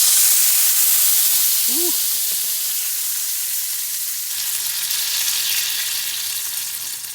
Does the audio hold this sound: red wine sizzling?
yes